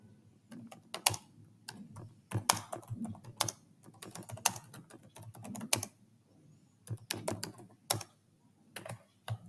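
A query is typed on a computer keyboard in quick, irregular bursts of close key clicks with short pauses between them.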